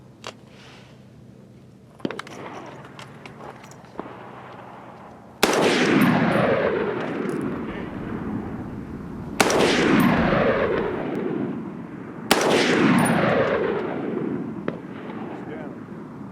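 Three loud rifle shots from a Smith & Wesson M&P 10 fired at a far-off target outdoors, each a sharp crack with a long rolling echo, spaced a few seconds apart after a quieter stretch of faint handling noise.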